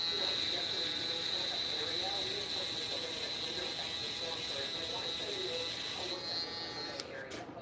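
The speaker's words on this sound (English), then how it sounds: "So let's compare these two shavers." An electric shaver buzzes steadily with a gritty, ratcheting hum as it cuts hair close up, the tone shifting near the end as it is moved or switched off.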